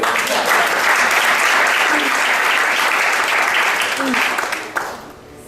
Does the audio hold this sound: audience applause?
yes